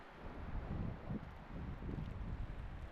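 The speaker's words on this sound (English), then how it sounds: "It's windy" Wind buffets a cyclist's microphone while riding uphill through falling snow, a faint low rumbling roar that gusts and swells in uneven waves.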